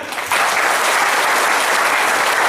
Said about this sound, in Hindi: सो एक बार जोरदार तालियां हो जाए